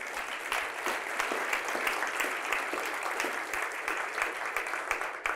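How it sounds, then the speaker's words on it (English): Thick, continuous applause from a large audience at a low-carb lecture event holds at an even level for over five seconds. The clapping fills the room without any talk over it. "Let's give them a big round of applause here."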